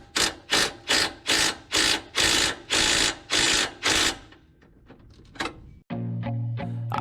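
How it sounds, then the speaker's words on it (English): Impact gun hammering against a bolt on a Mazda Miata in about eight loud, rapid bursts with short pauses between them, followed by quieter clanks and then a steady low tone. "let's see if we can crack this bolt loose"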